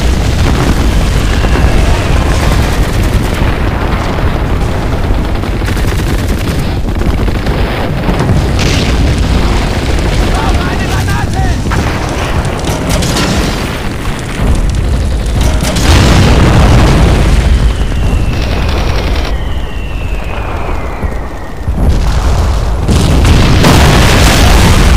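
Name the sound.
Katyusha rocket barrage explosions in video game Men of War: Barbarossa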